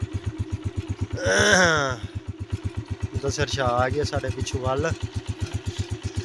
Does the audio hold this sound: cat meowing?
no